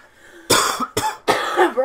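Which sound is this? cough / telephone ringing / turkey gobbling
cough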